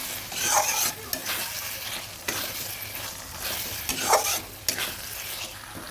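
Raw rice is fried and stirred in a hot pan before it goes into a Bengali muri ghonto with katla fish head. A steady close sizzle runs under repeated scraping stirs of a utensil, with no voices.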